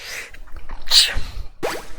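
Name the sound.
sneeze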